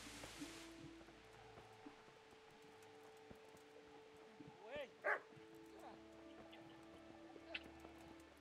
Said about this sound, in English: Okay, I'm definitely hearing a dog close by.